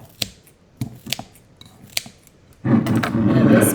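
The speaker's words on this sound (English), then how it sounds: "I am now just going back and kind of chopping up these pine needles a little bit more with my scissors." Scissors snip through pine needles in a quick series of sharp, close metallic cuts, spaced irregularly, followed by a louder rustling, crunching burst as the needles are handled.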